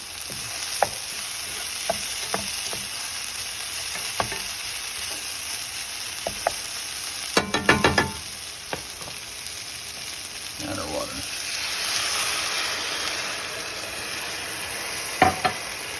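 Breakfast burrito filling cooks in a pan over high heat, giving a steady, moderate sizzle with scattered light clicks and a quick rattle of utensil strikes near the middle, heard close with no talking.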